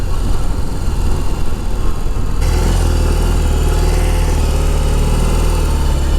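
A BMW motorcycle engine runs loud and close, a steady low rumbling drone that smooths into an even, continuous tone partway through, with no talking.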